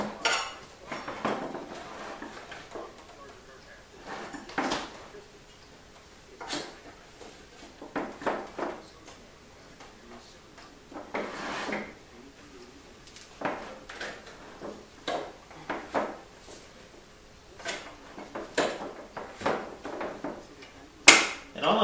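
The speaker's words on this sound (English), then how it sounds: "I'm just sliding the iron along on the rim." A tire iron slides and pries along the rim of a motocross wheel while the tire is being changed, giving scattered metallic clinks, scrapes and knocks at close range with quiet gaps between them.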